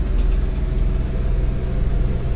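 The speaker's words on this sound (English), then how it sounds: "once the engine comes on" Jeep engine idling outside by an RV, a steady low rumble with a faint rhythmic pulse, close and continuous with no talking.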